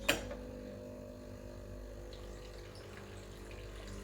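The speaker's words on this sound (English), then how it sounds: "It gives you nice clean hot water from the boiler." A Breville Barista Pro BES878 espresso machine dispenses hot water from its boiler, with a brief click at the start and then a steady, quiet pump hum and trickle of water running throughout.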